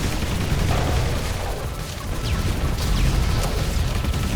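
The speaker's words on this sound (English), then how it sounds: "Those explosions were because I switched to missiles" A dense barrage of game explosions and blasts, continuous and loud, with crackling impacts layered over a constant rumbling roar.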